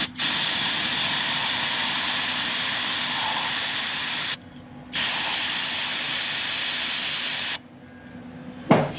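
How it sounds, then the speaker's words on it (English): Brake cleaner sprayed onto oily Chevrolet parts, a loud steady aerosol hiss in two long bursts with a short pause between, then a brief quieter stretch at the end. "Some brake clean to get all that oil residue out of there."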